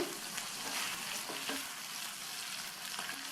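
Eggplant pieces frying in oil in a pan over high flame, a steady, faint, hissing sizzle with light crackle throughout and no voices.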